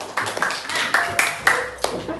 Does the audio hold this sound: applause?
yes